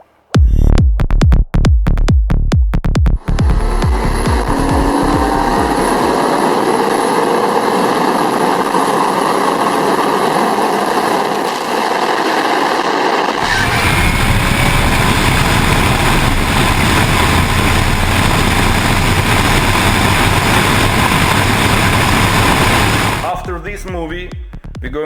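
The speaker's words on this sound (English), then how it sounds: "if you're going on the highway and tired of the high exhaust sound, you can just lock it with a button inside the car" Loud exhaust of a 1000hp turbocharged Mercedes, starting with sharp revving pops and then settling into a sustained, roaring, high-pitched drone that shifts tone midway and lasts about twenty seconds.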